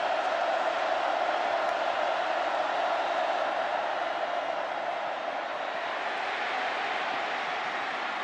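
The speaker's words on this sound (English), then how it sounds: "The 11th largest crowd ever in this stadium, and they're in full throat." A stadium crowd of over 101,000 at an Ole Miss versus LSU college football game roars steadily and loudly throughout, a dense, continuous wall of cheering with no break.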